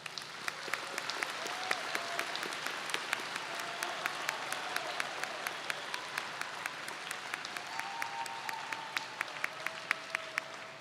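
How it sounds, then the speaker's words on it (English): Audience at a nursing and health professions commencement applauding graduates, sustained diffuse clapping with sharp individual claps standing out, steady and fairly faint. "Let's give these students a round of applause."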